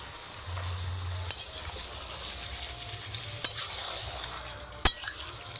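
Chicken cooking in a pan with whole spices, stirred over a steady sizzling fry, with a few sharp scrapes and clinks of the utensil standing out against the continuous frying hiss.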